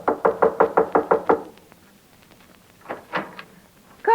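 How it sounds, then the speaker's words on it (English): Radio-drama door knock: seven quick, even raps on a wooden door, close and crisp, followed by a few fainter, scattered taps. "there was a knock on the door."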